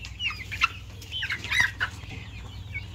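Columbian Light Brahma chickens, about two and a half months old, cluck repeatedly in short, scattered calls on a poultry farm over a low steady hum.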